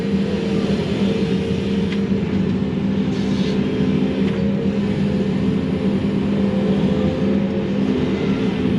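A large excavator with a big bucket digs dirt for a new pond, its diesel engine droning steadily and loud throughout, a constant close-up mechanical hum with no talking.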